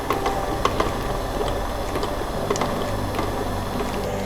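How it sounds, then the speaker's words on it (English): Kitchen mixer beating shortening and icing sugar at medium speed, a steady mechanical whir with small rhythmic clicks and ticks, close and even in level, with no talk. "I'm going to start mixing the shortening and the icing sugar at medium speed"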